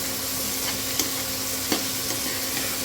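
Onions and tomatoes cooking in a pan for a village-style drumstick pithla, a steady loud sizzle throughout with a few soft spoon clicks and scrapes as the mixture is stirred.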